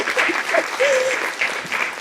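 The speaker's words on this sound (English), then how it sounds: "Let's clap again, please" Audience clapping briefly with some crowd noise and a voice over it, moderately loud and continuous for about two seconds.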